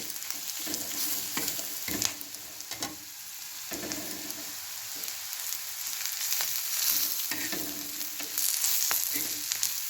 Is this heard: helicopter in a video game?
no